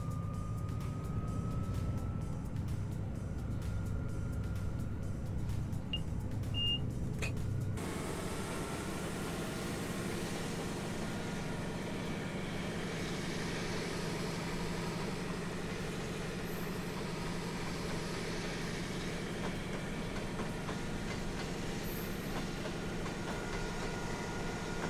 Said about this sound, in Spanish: el sonido del traqueteo de los coches está brutal